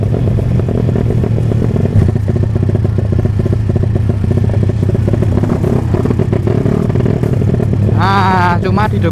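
Honda Tiger motorcycle accelerating, its engine rumbling loud and close with rough clattering revs, and a voice speaking briefly near the end.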